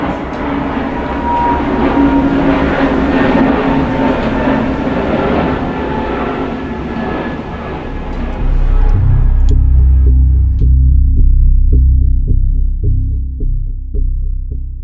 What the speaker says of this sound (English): it's allowed to be cut through all the time with flights going over